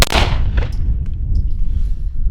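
Browning Hi-Power pistol fired at an outdoor range, one sharp loud crack opening the clip with a quick echoing tail and a fainter follow-up report, over steady low background rumble.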